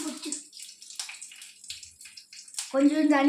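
Tap water runs into a kitchen vessel in an uneven, splashing stream while uthappam and tomato chutney are being made, with a short voiced sound near the end.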